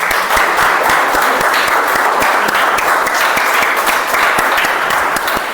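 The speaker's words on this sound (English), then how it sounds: "with a huge round of applause, let's all welcome distinguished Toastmaster Mazahir" A big round of applause at a Toastmasters club meeting as a distinguished Toastmaster is welcomed, loud and dense clapping from a room full of members that holds steady throughout.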